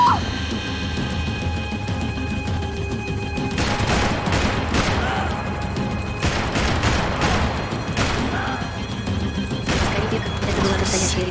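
Sustained gunfire from a Max Payne 3 shootout, with dense bursts of shots and crashing impacts around 3.5, 6.5, 8 and 10 seconds over a continuous noisy battle bed, loud and close.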